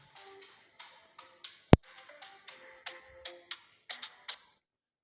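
A mobile phone ringtone plays a bright, rhythmic pattern of short electronic notes in a quiet room, with one sharp click cutting in partway through before the tune stops.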